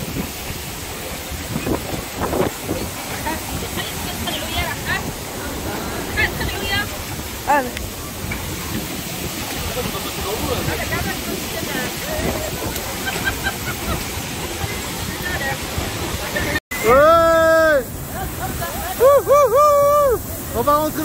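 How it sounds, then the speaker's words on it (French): Steady roar of rushing water at the Ouzoud waterfalls in Morocco, with gusty wind buffeting the microphone, then voices and excited calls rise over the noise toward the end. "On va rentrer dans la cascade."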